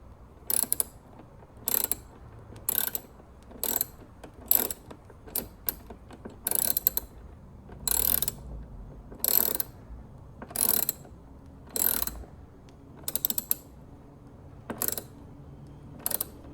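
Short bursts of socket wrench ratcheting, close and crisp, repeat at irregular intervals with quiet pauses between, as bolts are snugged down during a Mustang Mach-E rear pony light install.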